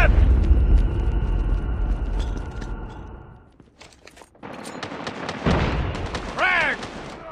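Heavy booming blasts and gunfire in a Call of Duty match, a frag grenade explosion among them, loud at first, dipping briefly, then returning with sharp cracks and a whooshing sweep.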